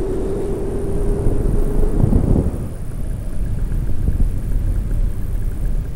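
A paramotor engine heard from the pilot's position in flight, a loud steady droning rumble with wind roar that eases and drops in pitch as the throttle is pulled back.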